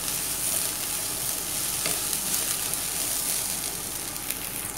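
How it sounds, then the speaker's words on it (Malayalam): Soya chunks frying in a pan with curry leaves, stirred steadily: a continuous close sizzle with soft scraping runs through the whole stretch, and no one speaks. "നന്നായിട്ട് ഇളക്കുക"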